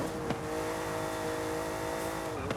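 A lightweight car in Forza Horizon 5 holds a steady, high engine drone at sustained revs, loud and close, with a brief rise and gear shift near the end.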